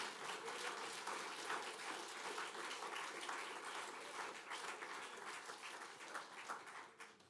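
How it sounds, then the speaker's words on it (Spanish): A church congregation applauds together, a dense, continuous wash of clapping from many hands that holds steady for about seven seconds before tapering slightly. "Vamos a darles un aplauso a Dios."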